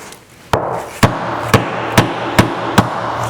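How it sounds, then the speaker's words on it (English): Six sharp metallic thumps from a hatchet striking a steel toe shoe strike at a steady pace, each a loud, crisp impact with a short ring, over a faint hum. "thumping on it with something like this hatchet or a hammer"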